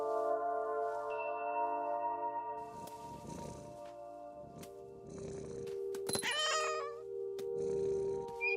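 A cat in the video game What Remains of Edith Finch meows several times over a low steady game ambience, with one louder drawn-out yowl near the middle and softer purring breaths between.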